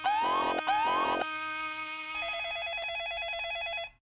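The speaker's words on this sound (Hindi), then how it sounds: "घंटी बज रही है" A telephone rings with two warbling trill bursts, then shifts to a steady electronic ringtone pattern that repeats for a few seconds before cutting off, fairly loud and alone.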